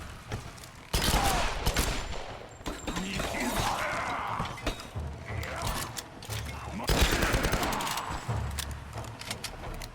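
Dense rifle gunfire from a commando rifle in the PC version of the video game Tomb Raider, heard as close, loud bursts of rapid shots with mechanical clatter that continue through most of the clip.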